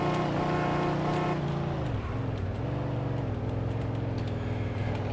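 A car speeding in the video game Mafia 2 during the Jimmy's Vendetta DLC: a loud, continuous engine roar that shifts pitch as it changes gear, then holds a high, strained drone at speed, with no talk.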